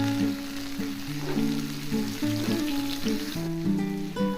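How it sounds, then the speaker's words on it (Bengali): Chopped tomato and spices sizzle and fry in a pan while a utensil stirs them, with steady tonal music playing over the cooking. "এটা একটু নাড়াচাড়া করে একটু ভাজা ভাজা"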